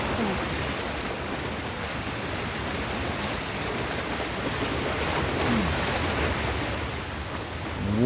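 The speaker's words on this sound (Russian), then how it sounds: "Вон, видал, что мы запустили водопад." A steady, dense rush of water roars continuously, broad and unbroken like a heavy waterfall, with no voices, from ruins in the video game Uncharted: The Lost Legacy.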